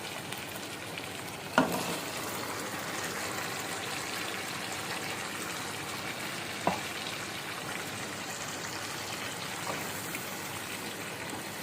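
Chicken and spinach frying together in a pan for chicken palak, a steady close sizzle with two sharp knocks of the spoon against the pan, no voices.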